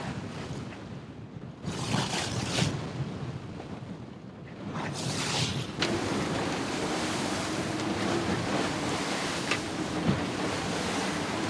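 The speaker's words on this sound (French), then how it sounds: "les vagues sont de plus en plus grosses. Donc ça tape de plus en plus." Waves slap and surge against a sailboat hull in heavy bursts off the Turkish coast, with rushing 27-knot wind and water hissing continuously.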